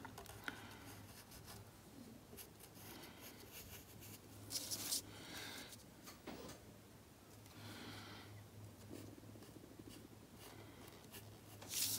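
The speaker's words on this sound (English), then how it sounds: "A little bit harder with this Sharpie than it would be with a pencil" Sharpie marker scratching across paper during a lecture demo on mirror images, a quiet continuous squeaky scribbling with brief louder strokes, close up and alone.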